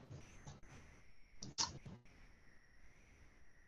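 A single computer mouse click during CAD drafting, a sharp brief tick standing alone against a quiet room background.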